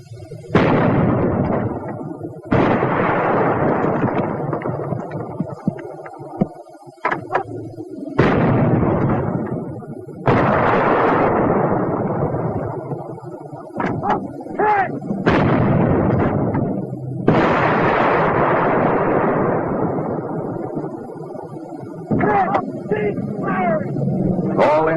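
Artillery guns fire in a 1943 wartime training film: a series of heavy booms, roughly half a dozen, each rolling off into a long decaying rumble, with narration running through the bursts.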